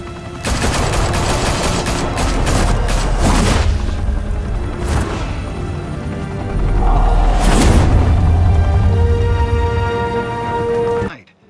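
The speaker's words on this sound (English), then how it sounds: "Open fire!" Gunfire in a Batman: The Telltale Series mafia shootout at the Skyline Club, a Gotham high-rise, with loud sustained fusillades and heavy booming bursts rolling continuously through most of the stretch.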